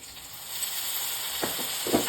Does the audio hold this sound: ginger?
yes